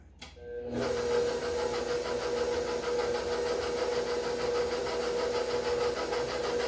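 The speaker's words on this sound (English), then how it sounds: "we're going to turn this on and we're going to let the mixer do the work" A stand mixer kneads fondant with powdered sugar: after a brief quiet moment the motor switches on and runs at an even, steady whine with a low hum beneath it.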